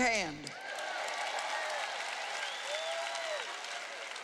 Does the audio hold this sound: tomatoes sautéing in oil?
no